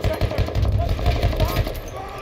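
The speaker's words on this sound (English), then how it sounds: "Enemy machine gun, sighted!" Battlefield 1 machine gun fire in a Conquest match, rapid repeated bursts through a dense, loud wartime mix with voices shouting over it.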